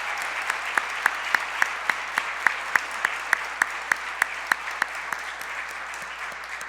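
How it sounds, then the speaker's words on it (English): An audience at a college MLK Day keynote gives a round of applause, a steady wash of many hands clapping, with one nearby clapper's sharp, evenly spaced claps standing out above the crowd. "let's give them and the entire committee a round of applause"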